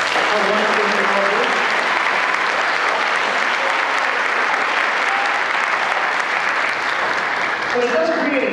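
A school spring concert audience gives loud, sustained applause, a thick wash of many hands clapping that stays steady throughout, with brief voices at the start and end.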